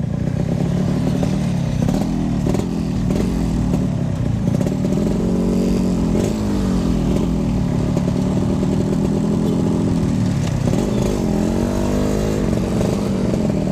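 A 1993 Yamaha RX King motorcycle engine runs loud and close while riding, its two-stroke drone steady throughout with pitch rising and falling as the throttle opens and eases.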